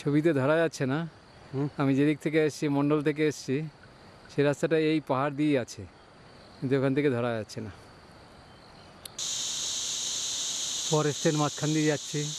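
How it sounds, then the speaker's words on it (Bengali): Crickets in a Himalayan forest shrill in a steady high drone, loud and continuous through the second half, with someone talking over them in the first part. "ঝিঝি পোকার ডাকটা নিশ্চয়ই তোমরাও শুনতে পাচ্ছ।"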